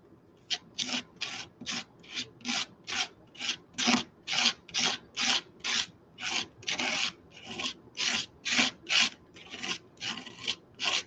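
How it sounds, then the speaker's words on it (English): Rhythmic rasping scrapes as junk is scraped off a craft stencil, about twenty regular strokes in steady succession, close and fairly quiet, with no voices. "Scraping off the other junk."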